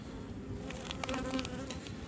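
Honeybees swarming around an open hive, a dense continuous buzzing drone that stays steady and close throughout, with no talking.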